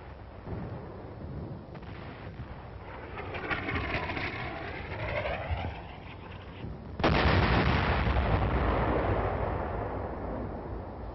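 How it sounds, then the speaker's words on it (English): Enemy artillery gun in a Korean wartime setting, one heavy blast heard from a distance through an old, muffled recording, followed by a loud sustained roar. "That blast of the enemy gun has been recorded as a visual image."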